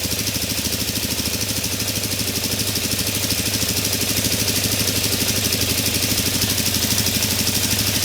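A 2017 Suzuki DR-Z400 motorcycle engine idling with the choke off, a steady close rhythmic thumping putter with hissy noise that holds evenly throughout, with no voices.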